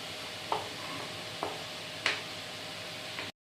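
Tomato paste being fried and stirred in a pan, a soft steady sizzle with a few distinct scraping strokes of the spoon at intervals, close and alone.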